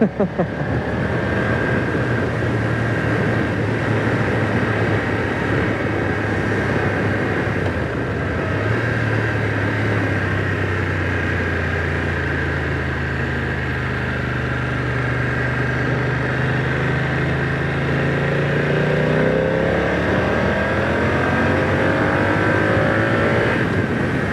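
A 2025 BMW F900R motorcycle being ridden and accelerating: a loud, close, continuous engine drone whose pitch rises and falls through gear changes for the whole stretch, with no talking.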